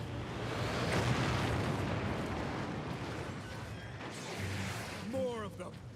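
Grenade explosions in the Space Marine video game roll out as heavy, rumbling booms under game voices, with a second burst of blasts near the end.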